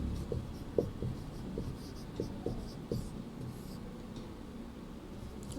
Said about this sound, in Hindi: इसी के नीचे हम लोग इसको लिखेंगे।